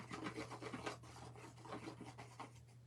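Glue being rubbed by hand onto an embossed card front for papercraft, a soft, close rasping rub repeating in short strokes over a low steady hum.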